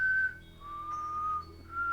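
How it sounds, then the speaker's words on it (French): Eerie whistling drifts and wavers in pitch over a low, dark rumbling background, with the sliding tones held and bending. Used as a horror effect, no one speaks. "J'entendis les pas se rapprocher, et les sifflements s'intensifier."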